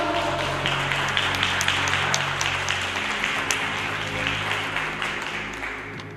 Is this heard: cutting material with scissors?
no